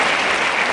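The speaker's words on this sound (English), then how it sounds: "But listen to that applause." Loud, continuous applause from an arena crowd following a preliminary professional wrestling bout, a dense wash of clapping with no pauses.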